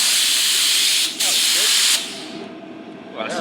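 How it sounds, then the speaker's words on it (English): Air-powered spray gun applying Dinitrol underbody protection to a BMW E46 M3 V10 during restoration, a loud steady hissing spray in two long bursts close by, with brief speech between them. "Yeah, it squirts. That spray's nice."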